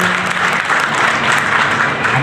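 Sustained applause from a crowd, steady and fairly loud throughout with no pauses.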